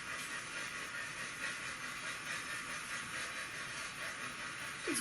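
A steam locomotive pulls away from Bodmin Parkway up the steepest climb, heard as a steady, loud hiss and roar of steam with a low rumble of the train underneath, continuous for the whole stretch.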